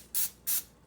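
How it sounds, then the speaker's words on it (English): Olive oil cooking spray hisses onto a pan in three short bursts, two full spritzes and the start of a third, close and crisp. "We're going to spray our pan with just a little"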